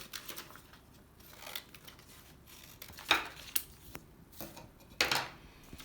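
Scissors cut a drawing out of folded paper, giving quiet close snips and crisp paper rustles in an irregular series, with a few sharper cuts near the end.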